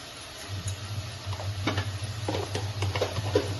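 Tomato, onion and whole-spice masala with turmeric stirred in a hot pan for a mutton curry; a soft, low sizzle runs under intermittent scraping spoon strokes, with no voices.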